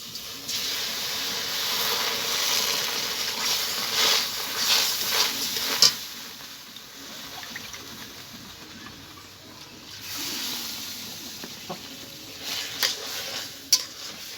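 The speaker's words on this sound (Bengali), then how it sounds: "সুজিটা ভাজা হয়ে গেছে এবার আমি জল দিয়ে দেব" Water poured into hot fried semolina in a pan sets off bursts of hissing steam and sizzle, with spoon scrapes and stirring recurring between quieter stretches and no voices.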